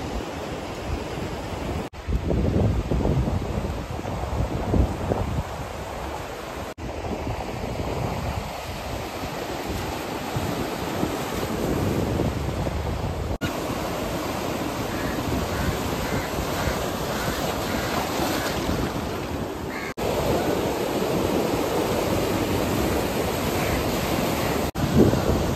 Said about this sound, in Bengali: বর্তমানে আসছি আমরা দীঘার মোহনা সৈকতে।